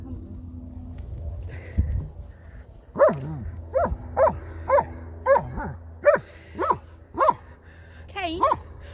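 German Shepherd dogs bark in a regular series of sharp, loud woofs roughly every half second, with whimpering and whining mixed in, while a person talks in the background.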